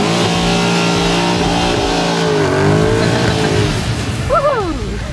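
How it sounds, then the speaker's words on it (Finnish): A Mercedes CL63 AMG engine revs hard and loud as the car accelerates on a wintry road, a steady roar that rises and shifts pitch before a brief squeal of tires near the end. "jos haluaa painaa vähän kaasua"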